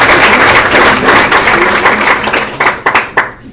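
An audience at a management conference applauds Brigitte: loud, dense clapping from many hands that thins into a few scattered final claps.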